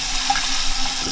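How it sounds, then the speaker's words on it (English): A bathroom sink tap in a hotel room runs steadily, a close, loud, even hiss of flowing water with no talk over it. "bathroom sink water thing"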